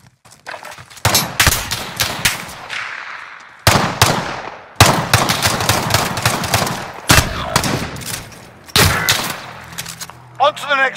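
Bursts of rapid automatic gunfire from Call of Duty Modern Warfare, loud and close, come in several long volleys separated by brief pauses, with a faint voice near the end.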